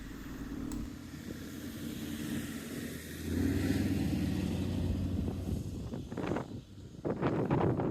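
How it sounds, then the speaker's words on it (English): A Land Rover Discovery 3's engine drones and surges as it works through sand holes in desert dunes, rising in revs partway through, with wind buffeting and sandy rushing bursts near the end. "The Discovery 3 can be seen dealing with the holes left by previous people as its alternate wheels spit up sand."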